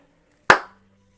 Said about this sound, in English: then clap.